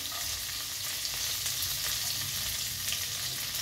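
Chopped garlic, ginger and green chilli frying in oil for Chinese-style fried rice, a steady, close sizzle that holds even throughout with no talking.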